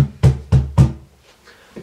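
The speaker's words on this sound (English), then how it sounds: "grab a tone, and then slide the foot from the top to the bottom, or the bottom to the top" A cajon is struck, then a foot slides along its face to bend the pitch, giving three booming, close thumps in steady succession that fade into softer resonance.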